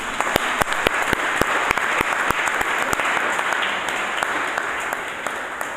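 A church congregation applauding and acclaiming the Lord, loud sustained clapping with sharp, rhythmic accented claps throughout.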